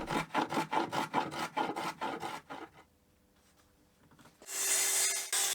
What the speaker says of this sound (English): And a final touch with a hand plane.